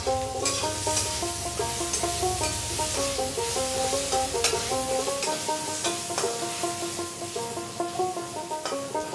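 Potatoes sizzle as they fry with turmeric and salt, a continuous pan hiss with scattered crackles heard beneath a melodic background tune.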